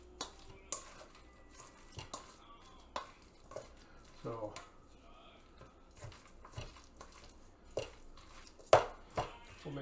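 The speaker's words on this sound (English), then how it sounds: "So we'll mix this up." Turkey salad stirred in a bowl, heard as scattered close scrapes, taps and wet clinks of a utensil against the dish, with short gaps between strokes.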